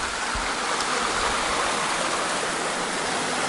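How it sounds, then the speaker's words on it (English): A small waterfall on the River Yelm on Dartmoor rushes in a constant broadband hiss of falling water, near and steady, with a few low bumps and no voices. "this is the waterfall."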